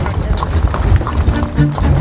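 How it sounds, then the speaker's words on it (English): Horse galloping down a dark street while pulling a carriage, rapid clip-clopping hoofbeats rumbling close and loud in a continuous driving rhythm, with shouting voices mixed in over the hooves. "whipped the horse into a gallop, hurtling down the dark street with our carriage right behind"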